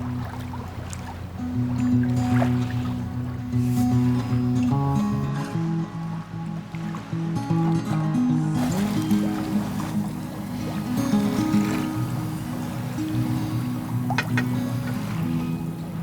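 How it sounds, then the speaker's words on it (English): Water ripples and washes steadily past the bow of a sailing boat under full sail off Denmark, a continuous close wash with no one speaking. "somehow the sails stayed full and the water kept rippling past our bow"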